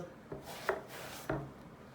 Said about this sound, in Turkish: Patlıcanları doğrarken de dış kabuk yerinden doğramayacağız.